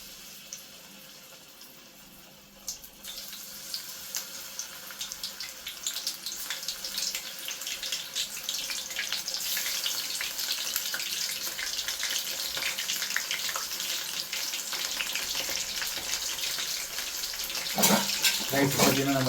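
Soaked soya chunks frying in hot oil for soya chunks 65, a steady dense sizzle and crackle that builds and stays loud and close throughout, with a brief sharper burst near the end.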